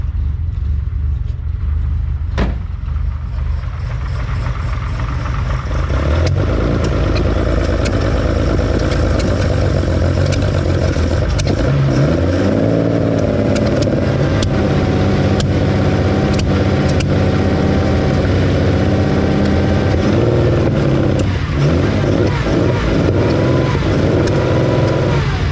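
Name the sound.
Ferrari 365 GTC/4 engine cold-started, running and popping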